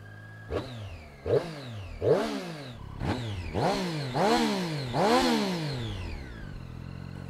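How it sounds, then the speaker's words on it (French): A Triumph Street Triple 660S motorcycle starts and is revved repeatedly at a standstill. About six sharp throttle blips rise and fall in pitch, each lasting longer than the one before, close and loud, then settle into idle. "Allez, je démarre la Triumph."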